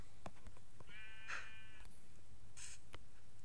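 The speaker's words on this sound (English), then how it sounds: "Hello, Mr. Sheep." A sheep, likely from a farm video game, gives a single clear, wavering bleat of about a second, fairly close and alone over a quiet background, followed by a brief higher call.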